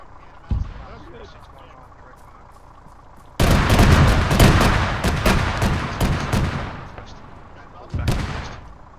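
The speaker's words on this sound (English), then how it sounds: "Bravo is getting engaged by an autocannon" Autocannon fire in a military video game: a sustained burst of loud, rapid booming rounds, with single heavy shots before and after, close and prominent while voices talk over it.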